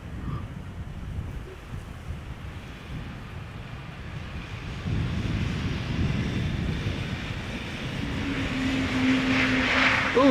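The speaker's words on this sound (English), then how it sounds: "for the landing of an E2 Embraer arriving from Aberdeen, KLM flight 914" A KLM Embraer E2 lands at Amsterdam Schiphol on a flight from Aberdeen, its engine roar growing louder toward the end amid steady wind buffeting on the microphone.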